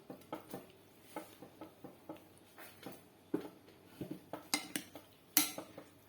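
Chicken macaroni salad with pineapple is mixed in a bowl with a utensil, giving a steady run of close scraping, clinking and soft wet knocks against the dish, with no talking.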